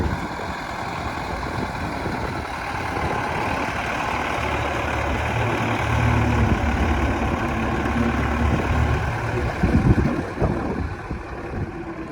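An MTZ 892 tractor ploughs a field in the rain with a rotary plough, its engine giving a continuous, fairly loud diesel drone that swells slightly toward the end.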